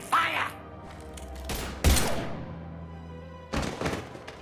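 Gunfire in a Mass Effect 3 battle, with a few sharp, loud bursts spaced apart and separated by quieter stretches of game ambience.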